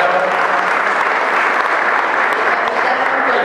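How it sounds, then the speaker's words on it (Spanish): Steady, dense applause from an audience welcoming a cruise ship captain at the opening of the cruise season in Montevideo, loud and continuous throughout with no speech over it. "Así que el aplauso para el capitán Ann Smith."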